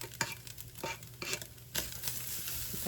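Spoon stirring chopped onion into browned meat in a hot pan: soft scraping strokes over a steady low sizzle, close and fairly quiet.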